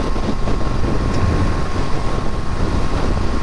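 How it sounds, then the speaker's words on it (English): A Royal Enfield Super Meteor 650 twin-cylinder motorcycle engine hums steadily while riding in winter, a low continuous drone mixed with rushing wind noise, with no talking. "And I think this engine just purrs. It just sits and purrs along."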